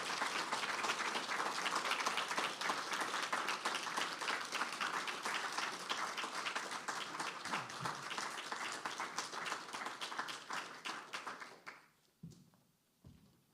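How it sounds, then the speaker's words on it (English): A faculty presentation audience gives sustained applause for speaker Deborah Taffa: dense, steady clapping from a crowd that holds strong for about eleven seconds, then thins and tapers off to a few scattered claps near the end. "Can we have another big round of applause for Deborah Taffa?"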